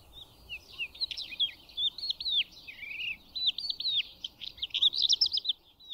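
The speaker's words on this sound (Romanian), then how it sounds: "Așa se face că întâlnim des ciocârlanul și îl recunoaștem cu ușurință după creasta evidentă." A crested lark sings a continuous run of high, varied chirps and warbling whistles in a nearby open-country setting, clear against faint background noise, with no voices.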